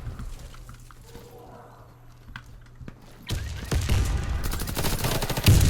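Rapid gunfire from the ZX84C weapon in the shooter game Warface breaks out after a quieter stretch of scattered clicks and faint shots, becoming loud, dense bursts of fire.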